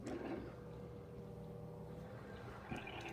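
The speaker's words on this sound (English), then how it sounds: "This one, I hear a pump running right away." Hamilton Beach FlexBrew two-way coffee maker set to single serve, its pump running with a steady low hum and faint rattle, close and continuous, with a small knock near the end.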